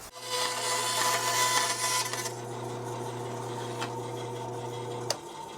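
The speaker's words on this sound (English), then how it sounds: "I'll take this back to the spindle sander and we'll clean it up on the spindle sander" A spindle sander shapes a wooden guitar headstock, a steady motor hum with rasping sanding noise that is strongest early and then eases, ending with a small knock, close and without talk.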